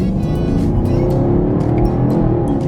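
A 2019 Camaro SS accelerates hard under manual paddle-shift control, its engine roaring loudly and steadily up close with a rising growl and no talking.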